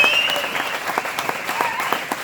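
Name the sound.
audience applause for the sound man Chris Dixon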